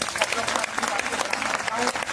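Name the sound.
applause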